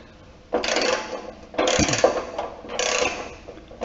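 A hand ratchet works on 8 mm muffler bolts of a John Deere L130 riding mower, three separate bursts of close, clicking turns with short pauses between.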